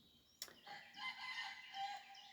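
Chickens in a springtime farmyard: a sharp knock comes first, then a rooster's drawn-out crow rises and wavers at moderate distance over a faint background.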